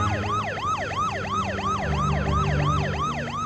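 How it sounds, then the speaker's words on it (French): Ambulance sirens wail continuously in a fast rising-and-falling yelp, several cycles repeating evenly, loud and fairly near with faint traffic rumble underneath. "Hommes et ambulances se précipitent."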